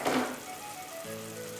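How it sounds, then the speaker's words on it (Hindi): Potatoes sizzle and fry in a masala gravy for an aloo anday ka salan, a soft steady crackle close by that swells briefly at the start and then settles into a low continuous hiss. "ग्रेवी भूनने के साथ साथ ही हम इसमें आलू डाल देंगे"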